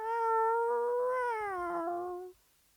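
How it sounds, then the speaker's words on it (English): A cat shut in a box meows once in a long, clear, drawn-out cry with a rising and falling pitch, close and alone, ending abruptly. "she hears him meowing"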